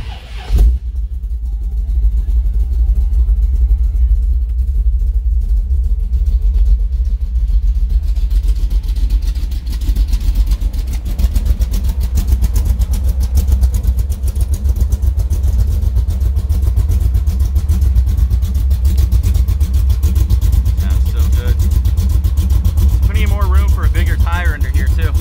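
A 1957 Chevy 3100 Apache restomod pickup with a 383 stroker V8 and 700R4 transmission runs steadily at idle, a loud continuous low engine rumble lasting throughout, with faint talk in the background.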